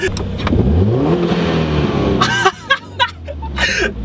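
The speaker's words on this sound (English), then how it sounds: "I gave it a few revs. It sounds really good." A 2018 Subaru WRX fitted with a GrimmSpeed intake revs up loudly close by, the engine rising in a long sweep and then falling back. Short voiced reactions and laughter follow as the revs die down.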